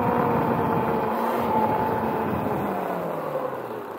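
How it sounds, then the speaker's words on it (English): A Surron electric dirt bike fitted with a Sotion motor rides on a flat front tire, giving a steady, loud electric whine with shifting tones over continuous road and tire rumble that eases slightly toward the end. "Why does it sound like my wheel's flat?"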